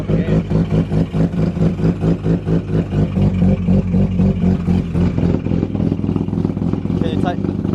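A bridgeported rotary engine in a Mazda FD RX7 roars loudly on a cold start, held on the throttle with a rapid, lumpy, pulsing idle and some clatter, while a person talks over it.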